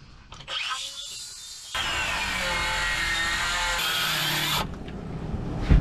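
A hand saw working through gnarly wooden grain with the blade binding in a tight kerf, heard as loud, close, continuous rasping strokes that stop, restart and break off near the end.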